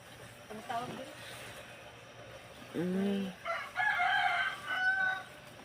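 A rooster crows nearby in a loud, drawn-out call, followed by further crowing or clucking; faint background noise throughout.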